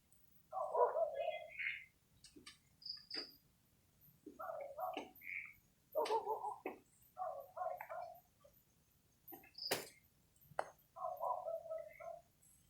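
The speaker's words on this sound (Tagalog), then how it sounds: "Kumakahol na naman ang aso mga kaidol." A dog barks in short bursts again and again, near and fairly loud, with brief pauses between barks and sharper snaps mixed in; no one speaks.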